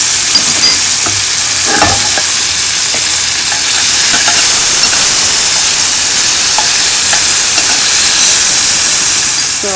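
Raspberries roast in a hot pan for a raspberry sauce, giving a loud, steady sizzle and hiss close up that runs the whole time, with faint stirring taps and no talking.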